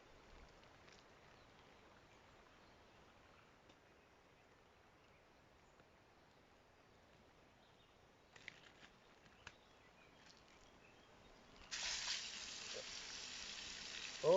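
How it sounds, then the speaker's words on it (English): Beef sizzles in a hot pan at an outdoor camp, a steady crackling hiss that grows suddenly louder and brighter toward the end, with no talking. "So let's get the beef on."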